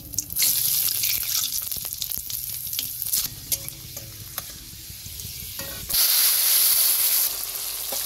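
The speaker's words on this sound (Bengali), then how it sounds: "ফোড়নের জন্য যেই শুকনো লঙ্কা, তেজপাতা আর 5 ফোড়ন রেখেছিলাম," Dry red chillies, bay leaves and five-spice seeds sizzling as they hit hot oil for a tempering, a steady loud frying hiss with stirring scrapes, flaring up again strongly near the end.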